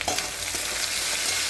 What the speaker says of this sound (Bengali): আর একটু ভাজা হোক